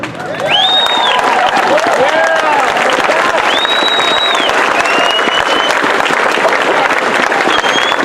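A large crowd at a community rally in Wooster, Ohio claps loudly and steadily, with scattered whistles and cheers rising over the continuous applause.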